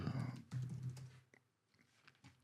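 Computer keyboard typing while a name is entered into an After Effects template, a dense run of close clicking keystrokes for about a second, then a few scattered taps after a short pause.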